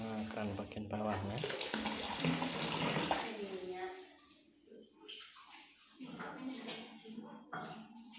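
Water runs from a lower tap during a water heater installation, splashing and hissing for several seconds while people talk over it, with a brief drop before the flow resumes.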